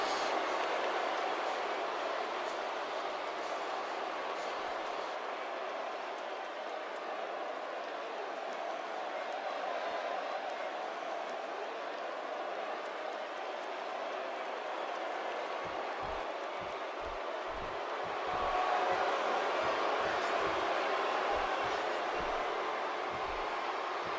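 Arena crowd noise from WWE 2K18 at a Vengeance pay-per-view event, a steady dense roar that swells near the end, with a rhythmic thumping beat entering in the second half.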